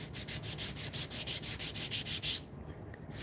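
Rhythmic back-and-forth sanding on wood, about a dozen even strokes in quick succession, close and clear, then it stops.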